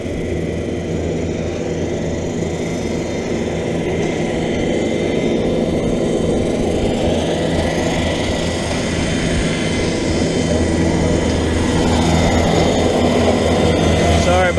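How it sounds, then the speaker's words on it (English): A lawnmower drones continuously nearby outdoors, a steady broad engine roar that stays loud and constant throughout. "there's a lawnmower behind us."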